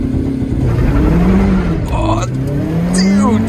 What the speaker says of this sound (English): now I have to give full throttle, and then I have to throttle back a bit because it's quite fast